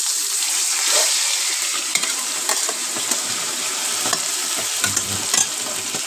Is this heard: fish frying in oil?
yes